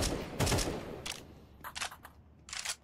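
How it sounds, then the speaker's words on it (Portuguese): Automatic gunfire in a Counter-Strike match between IMPERIAL and GALORYS: several short separate bursts of rapid shots, crisp and fairly close, with quiet gaps between volleys. "Gente que não poupa balas, viu? Tá lá, ó. É o ratatá, tatá, tatá."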